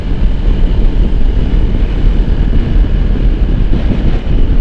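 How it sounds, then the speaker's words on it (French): Heavy wind buffets the microphone while riding a Ducati Desert X Rally motorcycle. It makes a loud, constant low roar with no pauses and no talk. "Il y a du vent, hein."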